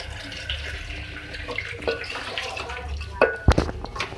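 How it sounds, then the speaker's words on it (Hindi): Two glasses of water are poured into a cooking pot, giving short splashing bursts near the end after quieter kitchen rustling. "2 गिलास पानी मैंने इसमें ऐड किया है।"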